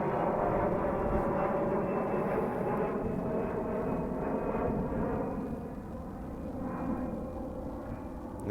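An airliner takes off at Dane County Regional Airport, its jet engines a steady, loud, broad roar heard from a distance, easing slightly toward the end, with no talking.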